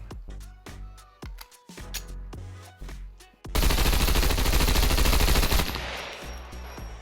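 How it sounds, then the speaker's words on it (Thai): Rapid gunfire from a weapon emptying a full magazine in the video game SCUM: scattered single shots first, then a loud, dense, sustained automatic burst that fades near the end. "โอเคลองยิงดูนะครับ 1 แม็ก"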